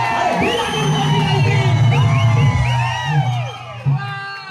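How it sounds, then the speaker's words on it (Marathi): Crowd at a village temple performance in Khed cheering and whooping loudly, with shouts and a whistle-like rising tone over a dense continuous roar of voices, nearby and sustained throughout. "पब्लिकने एक टाळी मारलेली आहे, पब्लिकने एक शिटी मारलेली आहे."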